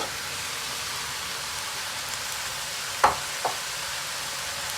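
Tomatoes drop into a pan of sautéed fresh green beans and long green peppers, setting off a steady broad sizzle with a couple of brief clatters, close and fairly loud, with no talking.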